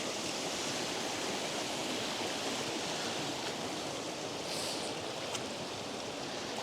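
Steady rushing water from a small waterfall and stream in Alva Glen, Scotland, a constant broadband roar close by with no pauses and no voices.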